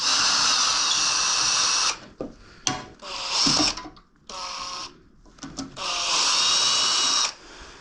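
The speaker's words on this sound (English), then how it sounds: "To the point that we can use power tools." Power drill whirring in several bursts as a bolt is worked loose, loud and close, with short pauses and clicks between runs.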